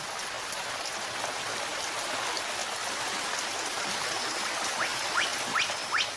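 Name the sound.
rain and tumbling streams in Madagascan rainforest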